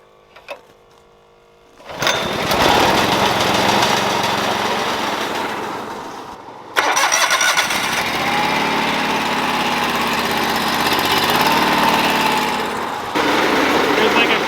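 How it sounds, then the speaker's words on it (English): Farm augers start up and run alongside a mixing load of treated wheat and phosphate: a sudden loud engine-driven roar kicks in after a quiet start, dips briefly, then resumes steady and close with mechanical rattling. "While that's mixing, we can turn our augers on."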